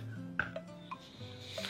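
A few short cutting and scraping sounds as banana leaf ends are trimmed on a work surface, small clicks and taps spaced irregularly, close by and fairly quiet, with no talking.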